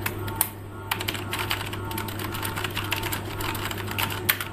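Typing on a Motospeed K81 (Saiosone 818K) RGB mechanical keyboard, a quick run of sharp clicky keystrokes, close and distinct, over a low steady hum.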